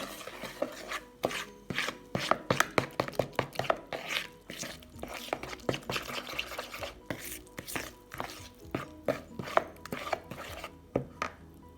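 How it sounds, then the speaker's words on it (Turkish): A spoon stirs pancake batter in a bowl with quick, rhythmic clicks and scrapes against the sides. The strokes are close and fairly quiet and carry on without pause, with no speech. "Bunları bir kaşık yardımıyla karıştırıyorum."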